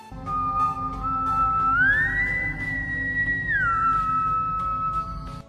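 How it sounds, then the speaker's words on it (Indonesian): A clear, sustained whistled tone glides upward, holds a higher pitch for a couple of seconds, then slides back down over a low, steady background rumble. "dia pun mendengar siulan yang aneh"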